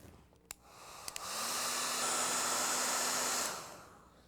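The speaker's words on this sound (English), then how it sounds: "we'll use the blow dryer now" Hair dryer blowing on painted clay whale shark, a steady broadband whoosh with a motor hum that rises after a few faint clicks, holds for about two seconds, then cuts off.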